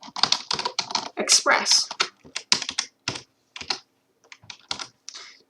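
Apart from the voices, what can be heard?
typing code on a computer keyboard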